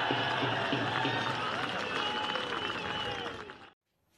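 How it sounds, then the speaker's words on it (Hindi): A crowd applauding Rahul Gandhi's speech at a political rally, steady dense clapping and cheering for several seconds, full and continuous, then abruptly cut off near the end. "तालियां बज रही हैं, लोग जोश में आ रहे हैं"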